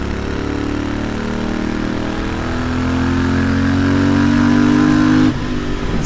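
A Royal Enfield Interceptor 650 motorcycle engine accelerates gently and progressively in third gear, its loud throbbing note climbing steadily in pitch before easing off abruptly near the end.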